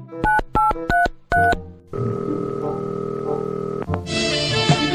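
Telephone keypad tones in a cartoon: four quick beeps of dialing, then a steady ringback tone with a click before a brighter tone begins.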